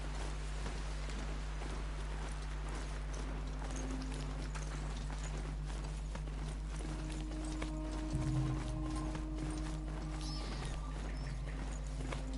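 A Strider machine horse galloping in the video game Horizon Zero Dawn, with rapid rhythmic hoofbeats running steadily over a constant low game hum and no one talking.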